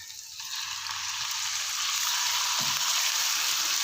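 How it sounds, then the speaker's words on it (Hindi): Chicken pieces sizzle and fry in hot oil with ginger and garlic paste, a steady bright crackling hiss rising slightly in intensity, close and continuous with no talk. "फ्राई कर लेंगे इसको अदरक और लहसुन के पेस्ट के साथ"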